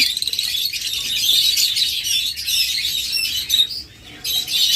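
A pair of violet mask lovebirds chirps continuously at close range, producing busy, high-pitched tweets and sharp squeaks that overlap in rapid, uneven bursts, with no voices.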